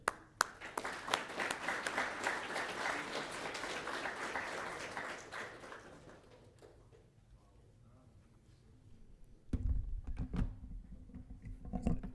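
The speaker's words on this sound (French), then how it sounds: "on va les applaudir pour les encourager et venir jusqu'à nous" An audience at a cybersecurity conference and CTF competition event applauds students, with dense, fairly distant clapping for several seconds before it fades to near quiet, followed by a low hum and a few knocks.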